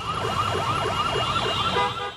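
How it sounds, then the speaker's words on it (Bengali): An ambulance siren wails on a busy Dhaka street, its rapid rising-and-falling yelp repeating loudly and close by without pause. "অ্যাম্বুলেন্সের উচ্চ শব্দের সাইরেন"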